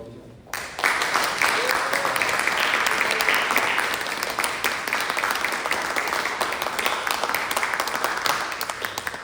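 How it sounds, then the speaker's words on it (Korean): A church congregation at a Sunday worship service breaks into loud, sustained applause to welcome a retiring pastor, the clapping starting abruptly after a brief quiet moment and holding steady with faint voices mixed in. "오늘 우리 목사님 나오실 때 우리 크게 박수로 환영하도록 하겠습니다."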